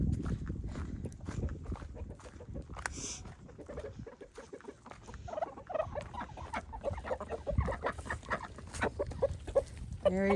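Several chickens cluck and murmur softly nearby, with scattered short calls over rustling and light background noise.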